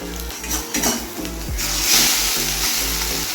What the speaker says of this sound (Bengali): বন্ধুরা দেখো, একটা ডিম অমলেট করছি